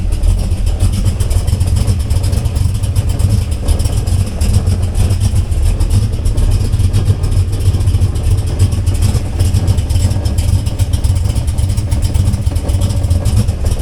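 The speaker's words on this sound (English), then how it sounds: "I want you to hear the rattle." A car engine idles steadily and loudly throughout, its continuous low rumble carrying an uneven buzzing vibration from a rattling exhaust pipe, with no talking.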